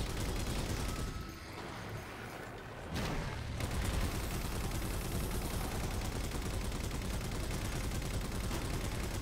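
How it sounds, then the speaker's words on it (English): Gunfire in the video game Halo 4 rattles in dense, nearly continuous automatic bursts, briefly easing after the first second before resuming loud and sustained to the end. "Stop shooting me!"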